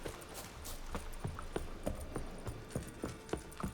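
Horse hooves clip-clop at a steady walking pace in the video game The Witcher 3: Wild Hunt, distinct clops close by over a background hum.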